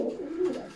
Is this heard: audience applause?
no